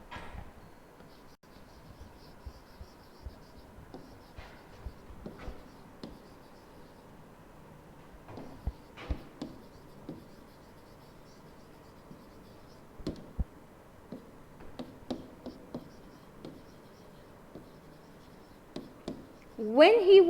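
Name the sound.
writing an example on a board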